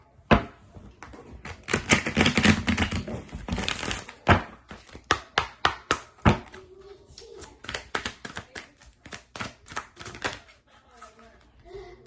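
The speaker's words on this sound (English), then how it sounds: "One more shuffle." Tarot cards being shuffled by hand, a flurry of rapid flicking and riffling followed by irregular taps and slaps of the deck, close up.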